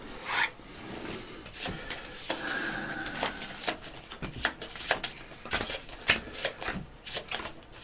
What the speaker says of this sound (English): Shuffle those and put those on the school.